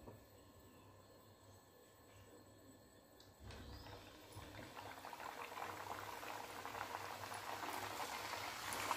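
Puris dropped into hot oil on a lowered gas flame set off a soft, steady sizzle and bubbling that grows slightly louder partway through, faint and continuous with no voices.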